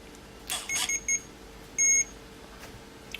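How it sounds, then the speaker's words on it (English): Several short electronic beeps from an RC car speed controller on an Axial Deadbolt running 3S, in a quick cluster, then one longer beep after a pause, moderately loud over a faint steady hum. "Listen for the audio beeps that you get."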